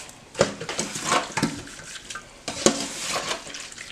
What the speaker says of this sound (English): We always wash our meats in salt and vinegar just to get off some of the debris or whatever they got on it.